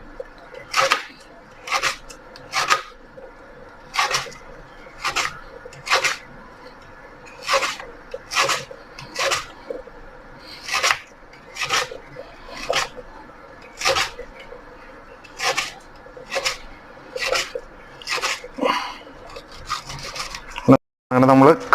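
A knife chops a banana stem into pieces for a Kerala-style stir fry, about twenty crisp, fibrous cutting strokes at a steady rhythm, close and fairly loud, with a sharper knock at the very end.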